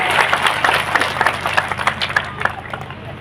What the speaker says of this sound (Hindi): अपने लिए जोर से ताली बजा ली